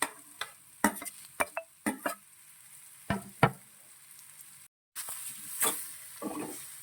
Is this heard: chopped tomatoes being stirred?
yes